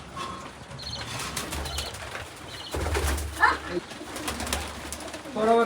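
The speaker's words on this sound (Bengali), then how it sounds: "এই যে কবুতর" Several pigeons coo close by while wings flap in loud, sudden bursts, with soft low calls running underneath.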